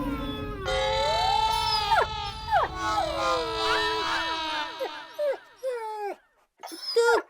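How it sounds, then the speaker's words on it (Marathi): A dog whimpers and howls in long rising and falling wails, several drawn-out cries in a row with brief pauses and a silent gap near the end, loud and close. "तो कुत्रा का रडत होता ते माहिती नाही."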